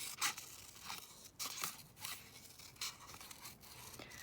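Scissors snip through paper in a series of short, irregular crisp cuts and rustles, close up and fairly quiet, with no one talking.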